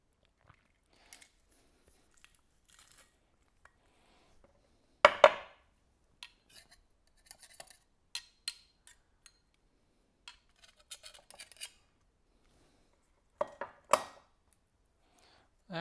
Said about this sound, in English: I'm just going to mince it